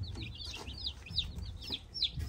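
Newly arrived baby chicks from McMurray Hatchery peep in a rapid run of high, rising chirps that overlap one another over a low rumble, fairly close and alone without talk.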